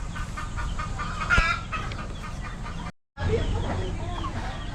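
Gamecocks cluck steadily in a noisy coop, close and busy, with a voice under the sound describing their mixed feed and a brief cut partway through.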